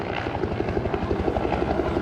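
Rapid, rhythmic rotor blade slap of a UH-1 helicopter at an airshow, a steady chopping beat with a deep engine drone underneath.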